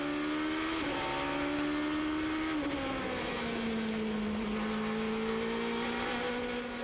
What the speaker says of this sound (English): Very distinctive engine note for these 4-liter Renault V8s, channeled through a single 8-into-1 exhaust system.